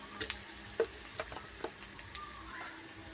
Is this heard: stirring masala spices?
yes